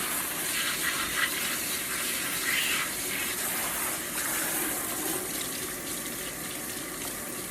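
Water runs steadily from a salon wash-basin tap while hair is rinsed, a continuous broadband gush with no talk over it.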